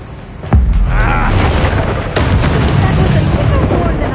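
Spell blasts from the Hogwarts Legacy video game, one for Incendio and one for Descendo, land as a sudden loud boom followed by a sustained rumbling roar. A second burst comes partway through, and everything plays under speech.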